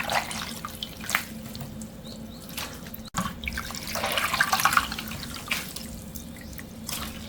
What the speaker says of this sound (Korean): 잘 익은 깻잎은 찬물에 넣고 2번 헹궈요.